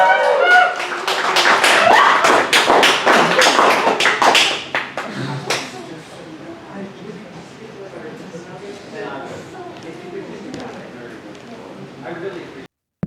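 At a Halloween-themed poetry slam, the audience breaks into dense, close applause that lasts about five seconds, then dies down to scattered claps and low crowd murmur.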